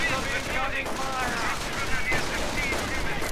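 Rapid automatic gunfire from an MG40 machine gun crew in a Company of Heroes match, bursts crackling steadily throughout amid battle noise, with a commentator's voice audible underneath.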